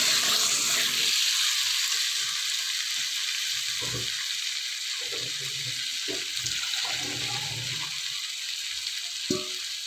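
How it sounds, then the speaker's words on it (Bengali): Spice masala and potatoes frying with a little water for a tilapia fish curry, a broad steady hiss with intermittent low stirring thumps and bubbling, close. "আলু দিয়ে দিলাম একটু জল দিয়ে আবার ভালো করে কষিয়ে নেব এখন"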